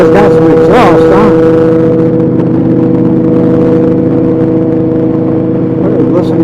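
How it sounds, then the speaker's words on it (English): A loud vehicle exhaust drones steadily at close range, rising and falling a few times. "Listen to that beautiful exhaust."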